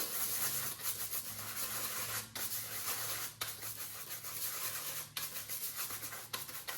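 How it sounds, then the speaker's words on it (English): Brush rubbing dark wax over a milk paint finish, steady close scratchy strokes with brief pauses between passes, no talk. "now we use our dark wax brush, separate brush for each wax, and offload"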